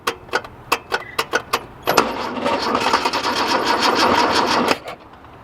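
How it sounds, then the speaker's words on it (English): Starter motor on a Datsun 240C cranking: a run of sharp separate clicks and bursts, then a steady close churning whir for about three seconds before it cuts off, with no talk over it. "Can you drive it in with the starter?"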